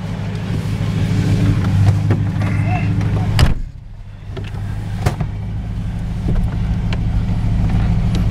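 A 1937 Buick driving on a road, its engine droning steadily close by with a brief louder surge and a short dip, while people talk over it.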